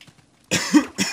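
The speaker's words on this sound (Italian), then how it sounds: "L'immancabile mia tosse." A single person's cough, a couple of harsh bursts close to the microphone, preceded by a faint low murmur and otherwise alone.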